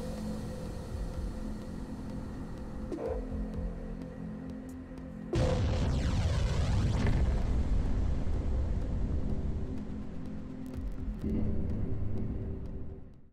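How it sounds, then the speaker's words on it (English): A bomb detonates in the block-building destruction game ABRISS Build to Destroy. A steady rumbling bed of game sound gives way to a sudden loud blast with a long roaring crumble that slowly fades, followed by a smaller thud. "I would detonate the bomb to destroy the red spheres"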